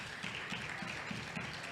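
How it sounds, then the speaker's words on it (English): Guests at a business and government dinner applaud an honoured guest, a soft, continuous patter of many hands heard at a distance, with a faint pulsing rhythm and no voices over it. "please let's applaud her"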